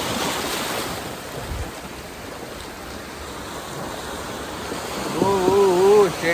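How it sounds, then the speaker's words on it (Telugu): Strong sea waves crash and surge over the rocks at Chirala rock beach, a loud continuous roar of water with spray, and a brief tonal sound rises near the end. "వాటర్ కూడా పడుతున్నాయి మన మీద, ఎంత ఫోర్స్గా వస్తున్నాయి చూడండి వాటర్ అయితే"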